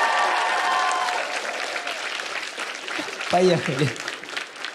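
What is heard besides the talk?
studio audience applause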